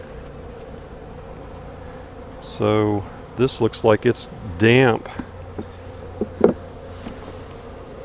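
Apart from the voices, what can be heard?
honey bees buzzing around a hive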